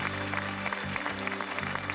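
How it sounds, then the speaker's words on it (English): Clapping from a studio audience on a 1987 British game show, a moderate burst of applause under a low steady hum. "Give them a round of applause, folks."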